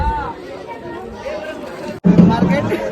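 Busy crowd chatter and babble fill the Aadgaon fish harbour market in a steady murmur of many voices, with a sudden louder swell of nearby talk and bustle toward the end.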